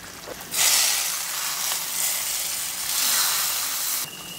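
Green chilies frying in hot oil for a Tamil kara-style brinjal kuzhambu, a loud, steady broadband sizzle that swells after a brief quiet start and runs on with gentle surges until it cuts back near the end.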